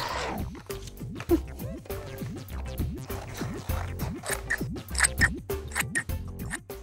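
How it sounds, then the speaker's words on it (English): Scissors snip through green card to cut craft shapes, a close, steady run of crisp cuts repeating in quick rhythm. "Now we can cut these shapes out, but be careful because scissors are sharp."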